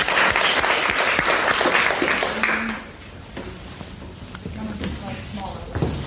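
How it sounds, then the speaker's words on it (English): An audience at a live talk event breaks into loud, dense applause that fades out after a few seconds, leaving a quieter room with scattered murmurs. "Let's give Tess a big round of applause"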